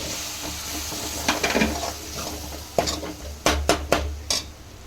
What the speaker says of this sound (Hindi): अभी मैं अच्छे से सबको मसालों को अच्छे से हम भून देंगे।